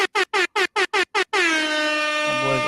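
Seven short, loud air horn blasts in quick succession, then one long sustained blast that holds steady before fading, alone with no talk.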